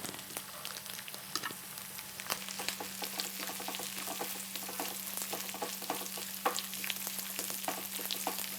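Garlic and dates sauté in an oil-filled pan for a pickle, giving a close, continuous sizzle dotted with light crackles and occasional stirring scrapes, with no talking.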